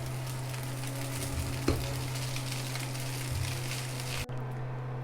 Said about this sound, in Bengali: নুডলসের মশলা দিয়ে দিব, দিয়ে মিশিয়ে নেব।